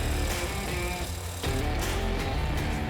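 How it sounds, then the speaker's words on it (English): A drill press drills a hole with a loud, steady motor drone, with a brief dip partway through before the machine's whine resumes at full strength. "I'll take it over to my drill press and make the hole"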